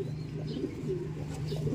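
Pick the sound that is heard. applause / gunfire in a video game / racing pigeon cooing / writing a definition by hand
racing pigeon cooing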